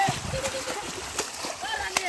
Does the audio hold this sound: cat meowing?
no